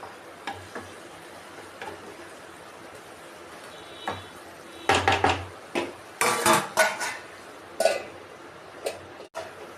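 A spoon stirs garlic chili curry with eggs in a metal pan, giving irregular clinks and scrapes. A few louder clatters come in quick clusters. A faint voice is audible in the background.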